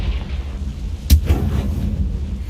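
A Confringo spell blasts in the Hogwarts Legacy video game, one sharp crack followed by a deep thudding boom and a short rumbling tail, set over a steady low background drone.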